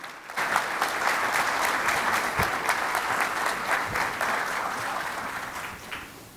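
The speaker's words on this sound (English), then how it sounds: "please give Mr. Ricky Gevers a big round of applause" A seated audience gives a speaker a full round of applause, dense steady clapping that starts abruptly, holds loud and even for several seconds, then tapers near the end.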